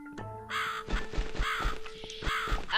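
A raven in The Cat Lady video game caws several times in harsh, rhythmic bursts, loud and close over a sustained musical drone.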